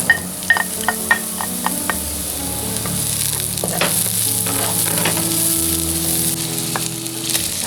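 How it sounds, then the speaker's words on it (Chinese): Scallions and garlic stir-frying in hot oil, a steady close sizzle with scraping stirring strokes and a few sharp clicks of the utensil against the pan early on. "我们倒油， 葱蒜爆香"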